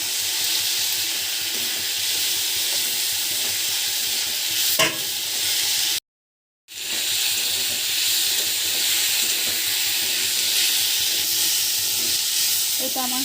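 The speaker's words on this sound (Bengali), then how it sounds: "হাই ফ্লেমে একটু ভেজে নেব।" Moringa flowers fry over high flame in a pan with a constant close sizzle and hiss, a stirring scrape now and then, and a brief drop to silence midway before the sizzling resumes.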